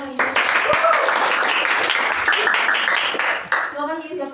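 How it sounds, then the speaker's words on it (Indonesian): Classroom audience applauding at the end of a lesson on AI, a steady dense wash of clapping with voices mixed in and talk rising as it fades. "Tepuk buat semuanya hari ini."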